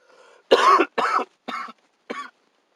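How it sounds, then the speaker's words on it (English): A short bout of four harsh coughs, close and loud, preceded by a faint throat sound, with brief silences between each cough. "excuse me for the cough"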